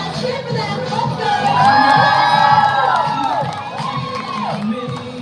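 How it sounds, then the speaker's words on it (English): A crowd, children among them, shouts and cheers loudly, with high excited whoops and calls rising over music and a thumping beat. "Oh yeah, cheer for them."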